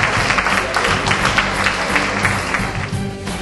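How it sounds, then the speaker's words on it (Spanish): A live audience applauds a woman at a Spanish-language event, steady dense clapping that fills the whole moment, loud and continuous with no voice on top. "El aplauso para nuestra amiga."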